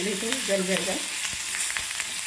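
Curry leaves fry in an Indian tempering for pongal over a low gas flame, a steady soft sizzle with crackles. Someone speaks briefly at the start.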